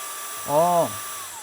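A vacuum-suction steam iron that draws fabric against its plate gives a short, steady electric whine, rising and then cutting off after less than half a second over a faint background hiss.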